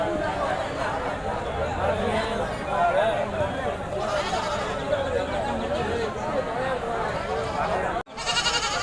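Goats, including Jamunapari bucks, bleat amid the busy Vadipatti goat market near Madurai, their calls mixed into constant crowd chatter and nearby talking throughout, ending with a brief dropout.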